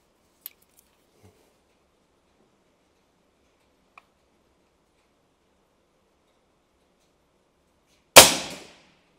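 A Black Bunker BM8 folding air rifle with 27 joules of power fires a single sharp, loud crack that decays quickly, following long near-silence broken only by a couple of faint clicks, outdoors in a garden.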